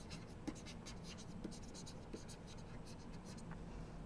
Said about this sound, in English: So, we will write it like that.